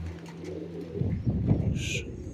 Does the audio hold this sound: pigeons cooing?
yes